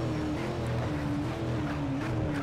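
Race car engines from the video game Need For Speed Shift drone loudly and continuously, with a steady revving tone that shifts pitch slightly as the cars run, and no talking.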